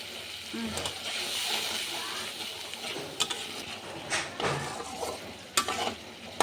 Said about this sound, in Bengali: দেন এখানে আমি সব মশলাগুলো দিয়ে দেবো, দিয়ে ভালো করে একটু কষিয়ে নেব।